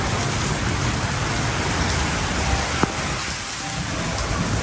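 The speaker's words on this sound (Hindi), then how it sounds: "अल्लाह का शुक्र है बारिश हो गई" Steady rain pours down in a continuous dense hiss that fills the whole stretch, with one brief sharp crack partway through and no voices.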